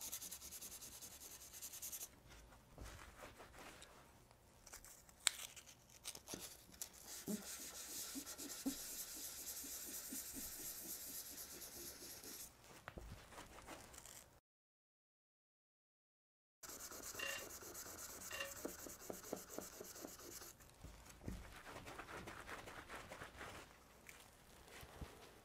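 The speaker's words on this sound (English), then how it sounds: "Normally I would use like a block for sanding." Hand sanding of Varathane clearcoat on a pinball playfield gives steady, close scratchy rubbing in long back-and-forth passes, with a short silent gap partway through before the strokes resume.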